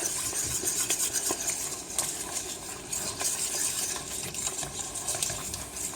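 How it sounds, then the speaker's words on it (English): Liquid whisked into hot oil for enchilada sauce crackles and pops quietly, with a steady sizzle and light clinks of the whisk against the pan. "Whisk right away because it's going to start popping when you add that liquid because you're adding liquid to oil."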